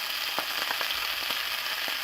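Beef liver laid into a hot pan sizzles steadily, with small crackles popping through the hiss, close and fairly loud, with no talking.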